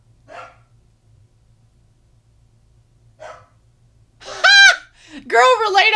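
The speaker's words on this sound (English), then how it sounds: "My dogs are going crazy." Dogs barking excitedly: two short barks sound faint and somewhat distant a few seconds apart, then a woman's loud exclamations dominate.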